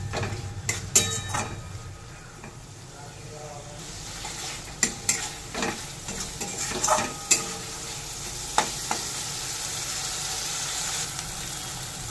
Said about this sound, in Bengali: এবার দিয়ে দেব টমেটো টুকরো করে কেটে রেখেছিলাম সেটা। টমেটো দিয়ে একটু নেড়ে নেব